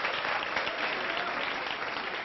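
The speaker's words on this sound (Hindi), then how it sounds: "एक बार तालियां ठोको इनके लिए, क्या बात है।" An audience in a lecture hall claps together in a short, steady round of applause that fills the whole moment, with no speech over it.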